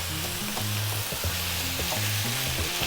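Cooked fusilli pasta stirred through a blue cheese and sausage sauce in a hot pan gives a steady sizzle with thick wet stirring and scraping sounds, close and continuous, with no talking.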